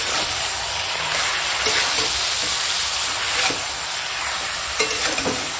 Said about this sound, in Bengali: এখন মাংসটা কষাবো